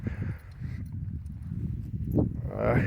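A black stallion's hooves clop at a steady walking pace as it is led out of a stable, the hoofbeats close and clear with voices talking faintly alongside.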